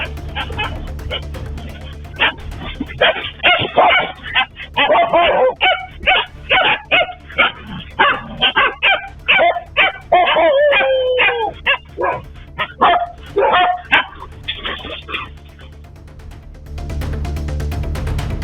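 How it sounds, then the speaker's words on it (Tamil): Stray dogs bark, yip and whine in a rapid, agitated run while circling a spotted deer, loud and close for about fifteen seconds before breaking off into a low hum. "அப்போது அங்குள்ள தெருநாய்கள் மானை சூழ்ந்து கொண்டு கடிக்க முயன்றன."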